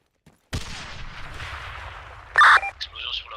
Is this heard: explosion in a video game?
yes